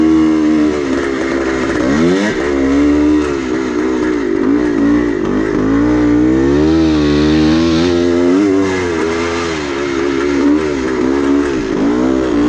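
Vintage 1970s racing motorcycles roar on a dirt motocross track, engines loud and continuous with rising and falling pitch as riders shift and rev, no talking.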